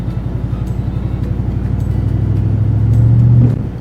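A truck engine labors under load while trying to drag a boat off its trailer, a loud pulsing low rumble that builds steadily in strain, then drops off abruptly near the end.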